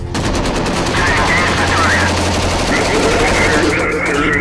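Loud, rapid machine gun fire rattles continuously in dense bursts, with a voice talking over the top.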